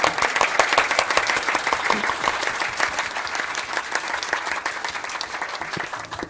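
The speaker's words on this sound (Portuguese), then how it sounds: "Uma salva de palmas aos trabalhadores," Audience at a Brazilian political debate breaks into sustained applause for workers, dense clapping holding steady and fairly loud throughout before easing slightly at the end.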